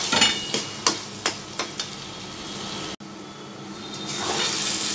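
Coconut paste with green chillies and prawns stir-fried in a pan for a Bengali daab chingri dish, with a run of sharp scraping and knocking strokes over a steady frying hiss, then a longer continuous sizzle.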